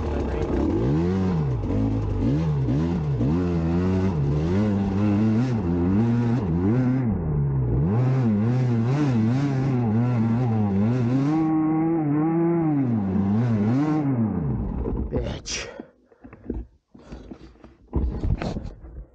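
Dirt bike engine revving hard and shifting pitch as the rider climbs over roots and hills on a trail ride, loud and close for about fifteen seconds before cutting to scattered bumps and short bursts.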